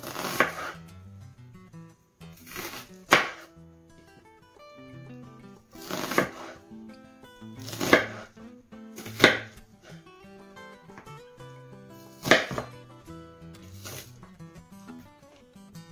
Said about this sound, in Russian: Режем лук, так как я люблю. Крупно.